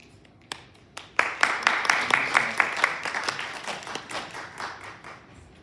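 A small room audience at a legislative water policy workshop applauds: a few scattered claps, then steady, fairly close applause that swells and gradually thins out.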